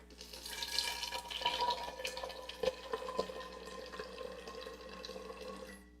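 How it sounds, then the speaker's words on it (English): Water is poured in a home setting, a continuous trickling, bubbling stream with small splashes and drips, fairly close and moderately quiet, with no talking. "Maybe if you can hear me pouring water, you enjoy it more."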